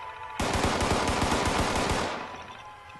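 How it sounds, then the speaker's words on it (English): Video-game gunfire in Fallout 76: a rapid burst of automatic shots rattles for about two seconds, loud and steady, then trails off into a fading echo. "Gotta love the random gunshots in the background."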